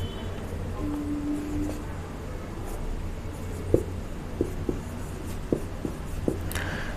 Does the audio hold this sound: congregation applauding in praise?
no